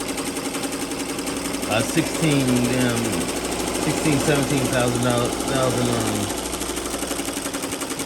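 A 15-needle embroidery machine stitches at high speed, making a loud, continuous rapid hammering chatter close by, with a person talking over it through the middle.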